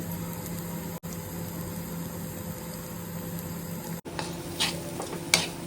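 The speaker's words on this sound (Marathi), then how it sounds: "मसालो आता मस्त तेलात परतून घेतलं" Homemade Malvani masala fries in oil over an onion-tomato base with potatoes, a steady low sizzle throughout with a few light clinks and scrapes of stirring near the end.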